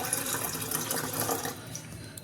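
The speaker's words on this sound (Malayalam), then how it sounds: "വെള്ളം കെറ്റിലിനകത്ത് ഒഴിക്കാം." Water poured into a kettle to boil for coffee, a steady close splashing stream running throughout without a break.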